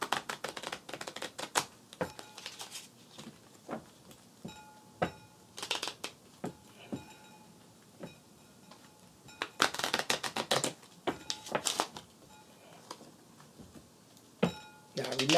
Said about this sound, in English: I usually don't like to shuffle like this